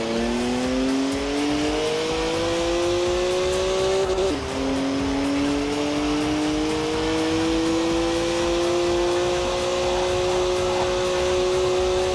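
A rear-wheel-drive BMW in Forza Horizon 4 drifting: a loud, sustained engine drone climbs steadily through the gears with one brief shift dip midway, with tire squeal underneath, and no talk.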